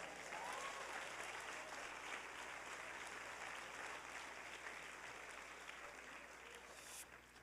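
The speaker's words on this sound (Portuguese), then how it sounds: "Diga amém por isso e aplauda ao Senhor Jesus" Sustained applause from a church congregation during a sermon, steady and dense throughout, fading slightly toward the end.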